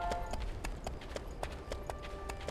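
Horse hooves clip-clop in a steady run of sharp, evenly spaced strikes over a busy ambient background in the Gameloft game BackStab, set in a zombie-infected village.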